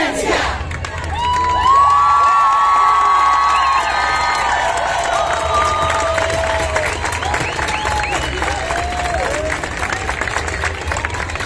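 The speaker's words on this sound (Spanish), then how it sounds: "Escuche ese aplauso para la..." A street crowd at a diversity march cheers, whoops and applauds loudly, with shouting voices and children's cries rising over sustained clapping for around eleven seconds.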